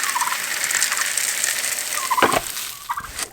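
Turkeys waiting for feed on a farm gobble in quick rattling bursts, loud and close, with a noisy outdoor background and a sharper gobble near the end.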